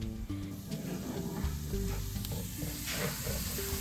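Onions and vodka sizzle steadily in a pan, the frying hiss continuous and close while a utensil stirs through them in scattered scrapes and clicks.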